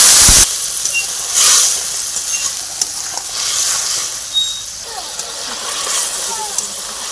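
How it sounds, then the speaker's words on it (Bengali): Vegetables and fish hit a hot pan for a spicy Bengali fish dish with onion stalks, giving a bright sizzle with bursts of stirring and scraping while someone talks. "এবারে সবজিগুলো এবং মাছটা দিয়ে দেবো"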